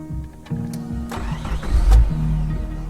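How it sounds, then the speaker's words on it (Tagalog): A car engine cranks and turns over, then settles into a steady, fairly loud running rumble with a few mechanical clicks and whirs layered on top, presented as a story sound effect. "Mahapdi na ang sikat ng araw nang tumakbo ang makina ng sasakyan."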